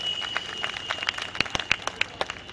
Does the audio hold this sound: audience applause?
yes